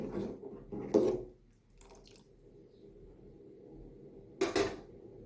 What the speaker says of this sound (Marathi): आपल्याला असंच चमच्याने सतत ढवळत राहायचं आहे